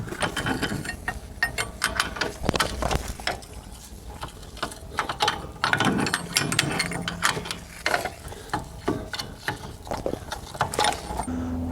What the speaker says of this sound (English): let's go ahead and tighten everything up